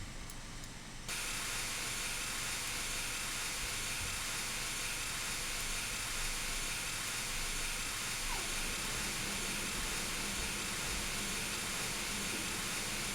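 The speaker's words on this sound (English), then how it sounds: "Train is making some dangerous noises and movements here." A locomotive in a train simulator game gives off a loud, continuous steam-like hiss over a low rumble, holding steady for the whole stretch after a brief quieter opening.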